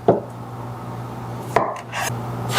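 Knife cutting fruit in half on a board for a Korean hwachae fruit bowl, a few sharp separate chops with quieter scraping between, close and clear with no voices.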